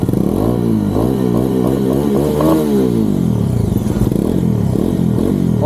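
A warmed-up Bajaj Dominar 400 motorcycle engine runs close by, its 400 cc single thumping loudly as it revs up and down several times with rising and falling pitch and some mechanical clatter, no talking over it.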